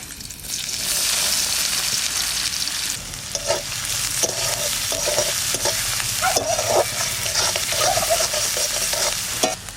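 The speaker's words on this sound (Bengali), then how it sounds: "ওই তেলের মধ্যেই ফোড়ন দেব জিরে শুকনো লঙ্কা কুচনো পেঁয়াজ" Cumin, dried chili and chopped onion sizzle and crackle in hot oil, a steady loud frying hiss broken by repeated scraping stirs of a spatula in the pan, with no voices.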